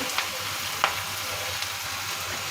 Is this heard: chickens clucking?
no